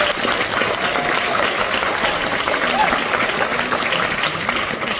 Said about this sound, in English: I would ask we all give a round of applause to the people who make tonight happen